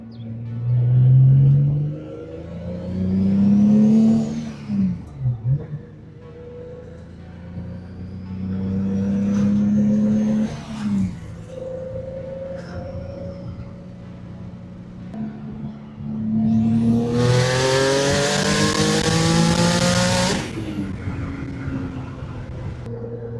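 A turbocharged Z car accelerates hard on a street, its engine note climbing through several gears with shifts between pulls and a loud whooshing burst near the end, heard from inside the car.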